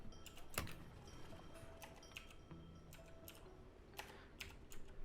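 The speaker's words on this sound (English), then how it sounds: "I'm so good at typing names." Quiet, irregular keystrokes on a computer keyboard during an online tabletop role-playing session, a quick run of close taps with short pauses between them and no voices.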